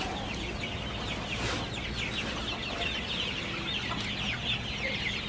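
Broiler chickens on a poultry farm in sweltering heat keep up a steady, dense chorus of clucking and murmuring, close and continuous throughout, with a constant background hum.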